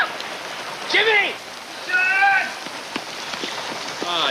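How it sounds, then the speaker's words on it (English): Steady rain pours down near a stream in the woods, a constant close hiss under several excited voices calling out in bursts. "This lousy rain makes it impossible"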